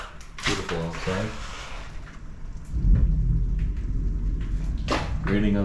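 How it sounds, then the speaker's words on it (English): Steady rain patters and drums on a metal dumpster close by, with someone talking over it at the start and end. "Raining on the dumpster."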